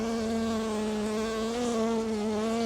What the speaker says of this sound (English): Got a little angry bee on me at the moment, was caught in a microphone.